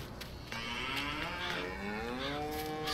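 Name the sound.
cattle mooing in Farming Simulator 19 video game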